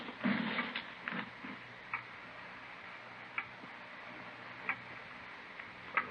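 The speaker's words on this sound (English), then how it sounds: "It's a loud clock, ain't it?" A loud clock ticks in a quiet room, sharp regular ticks spaced about a second or so apart, heard alone with faint background hiss.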